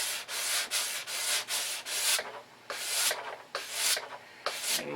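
Primer on a Ford Thunderbolt car body is sanded by hand in close, rhythmic strokes, with about ten bursts of scratchy rubbing separated by short pauses.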